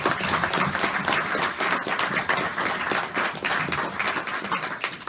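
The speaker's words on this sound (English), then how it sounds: "we should take a chance to give Gerry a round of applause" Audience applause after a live author talk at a Denver bookshop, steady clapping from a small crowd filling the room for about five seconds without pause.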